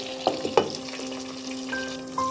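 Hilsa paturi wrapped in leaves fries in a covered pan, giving a soft, steady sizzle close by with a few sharp pops and crackles near the start.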